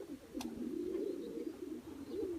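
A racing pigeon coos close by in a low, continuous rolling murmur that swells and dips over a couple of seconds, with a brief faint chirp early on, no talk.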